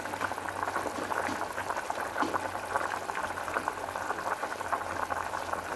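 A pot of Filipino chicken tinola soup bubbles at a steady boil nearby, a constant close gurgling and simmering with no talk.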